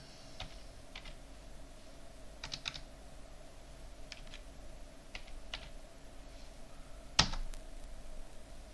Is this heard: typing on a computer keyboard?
yes